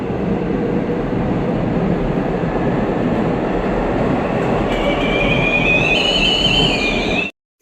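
Loud, continuous rumble of a Seoul subway Line 3 train running through a tunnel toward Yaksu station, with a rising high-pitched whine in the last seconds before it cuts off abruptly.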